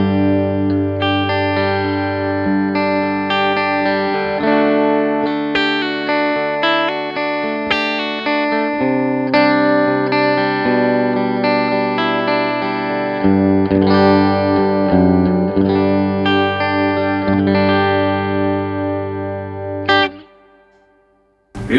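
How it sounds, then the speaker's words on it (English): An electric guitar plays clean chords and melodic lines through a fully analog amp with spring reverb, ringing with a long, lingering tail and sustained harmonics, loud and alone before ending abruptly. "Having a spring reverb, and there's nothing digital about this, and it just kind of comes through in the final tone."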